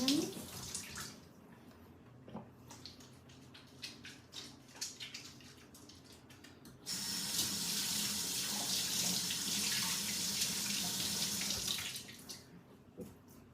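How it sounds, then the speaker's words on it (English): Water runs steadily from a tap for hand washing, a broad hiss that starts partway through and stops near the end, with quieter clattering and movement before it. "Wash my hands."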